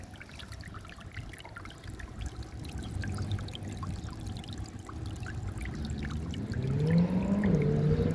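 A small solar-powered water fountain trickles steadily into a bowl, a continuous close pouring and dribbling that swells slightly louder toward the end.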